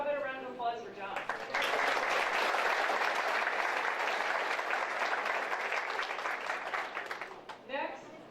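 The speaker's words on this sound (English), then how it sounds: "So how about a round of applause for John?" An audience at a school district retirement and recognition banquet breaks into steady, full applause lasting several seconds and then tapering off, with a speaker's voice just before and after.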